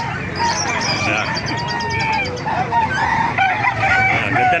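Roosters crow and chickens cluck together at a busy poultry market in Calumpit, Bulacan, several birds calling over one another in a loud, dense crowd noise with people talking.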